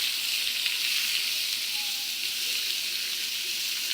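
Noodles for miki bihon pancit frying with pork belly in a pan give a constant close sizzle, a dense wash of crackling oil that stays level throughout with faint stirring underneath.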